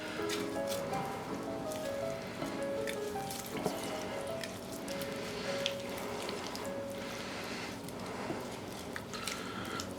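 A ginger and tamarind marinade for pork chops being stirred together, giving a steady, continuous wet sloshing and dripping texture for the whole stretch with faint tones behind it.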